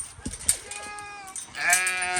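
Sheep arriving back at a farm after grazing, bleating repeatedly in harmonic calls, mid-distance, with a sharp human whoop and faint voices in the background.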